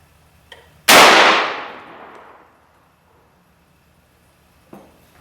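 Stevens 301 single-shot .410 shotgun fired once at a pattern target at 40 yards, one sharp loud blast with a long decaying outdoor echo, faint clicks just before and after.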